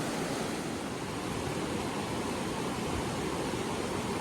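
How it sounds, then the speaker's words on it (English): Holcomb Creek on the Pacific Crest Trail rushes past in a steady, dense broadband roar, close and constant with no breaks and no voices. "This is Holcomb Creek, first of several crossings."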